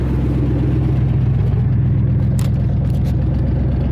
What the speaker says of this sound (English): they quit firing under load when I'm driving it